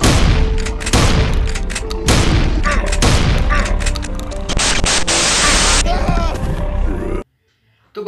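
Gunfire in the mobile horror game Slenderman Must Die, a rapid run of loud close bursts and cracks under a dense noisy background, ending in a sudden cut to near silence.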